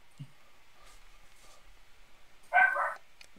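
A single dog bark, fairly close and loud, against a quiet background near the end, after a faint earlier yelp.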